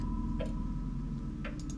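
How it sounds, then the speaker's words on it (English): In the horror game Darkness Within, a clock ticks faintly against a heavy, droning low ambient hum, two soft ticks standing out over the steady background. "Hello, clock."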